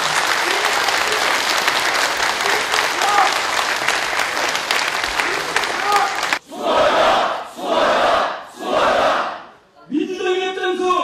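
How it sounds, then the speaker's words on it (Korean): Crowd applauding and cheering at a Democratic Party rally in North Jeonbuk, Korea, loud dense clapping for several seconds, then rhythmic chanted slogans shouted by the crowd in bursts. "박수로 환영하시기 바랍니다."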